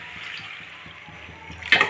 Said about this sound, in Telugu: కర్రీకి సరిపడా వాటర్ వేస్తాను